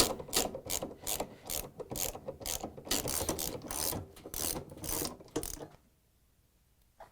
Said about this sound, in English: Using the 13mm socket wrench, take out the bolts that hold the counterweights and remove the weights.